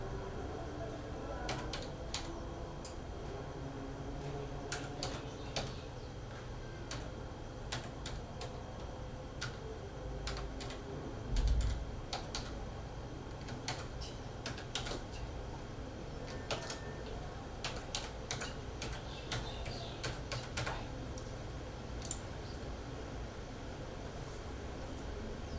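Computer keyboard typing during a tender public opening, a steady run of light clicks with irregular rhythm over a constant room hum, fairly quiet and close, with no talk.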